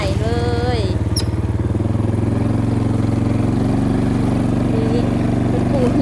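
A motorcycle rides along a newly paved asphalt road leading to a house, its engine droning steadily and close throughout while voices talk over it.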